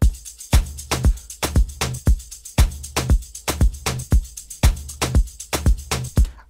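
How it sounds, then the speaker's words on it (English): Afro House beat with a shaker and hi-hat loop layered over kicks in a steady, bouncing groove, crisp repeated hits driving the rhythm with no voices. "So now you add some shaker loops or hi-hat loops"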